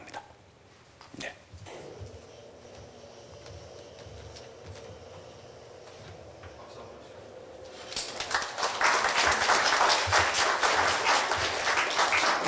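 A university lecture audience at Korea University sits mostly quiet with light room noise for several seconds, then breaks into loud, dense applause that swells and carries on steadily to the end.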